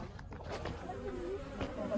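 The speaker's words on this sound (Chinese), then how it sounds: "是小蜜蜂，我觉得他们很喜欢这个洞洞的 天然的家" Bees buzz around a natural hole on a mountainside, a steady close insect drone with faint shifting whines lasting throughout.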